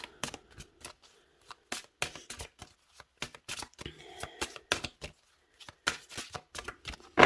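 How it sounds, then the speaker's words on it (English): A deck of cards being shuffled, a tarot-style card reading, with repeated crisp riffling bursts and pauses between shuffles, fairly quiet and close with no talking. "I'm going to give it a few more shuffles."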